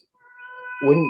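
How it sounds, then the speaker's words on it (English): A house cat meows in the background, one rising, harmonic whine that swells and ends in a louder, rougher cry, with a voice faintly underneath. "Excuse my cat whinging in the background."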